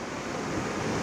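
Floodwater surges across a closed highway between Özgön and Osh in a mudflow, a dense continuous broadband rush like heavy surf with steady wind-like noise, loud and unbroken, with no voices.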